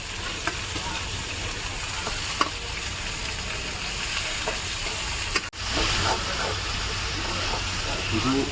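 Onions frying in a pan give a steady, close sizzle with occasional stirring scrapes and a brief break midway, while a voice talks over the cooking.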